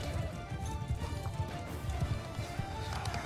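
A horse gallops in Mount & Blade II: Bannerlord, with rapid steady hoofbeats throughout amid battle ambience, and someone talks faintly in the background.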